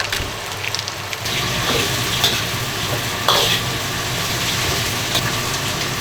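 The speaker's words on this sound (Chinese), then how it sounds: "火锅料就不用炒香哈， 只要把它炒化就可以了" Hot pot base sizzles loudly in a wok with donkey ribs while being stir-fried, a steady dense crackle close up with occasional scrapes and clinks of the spatula.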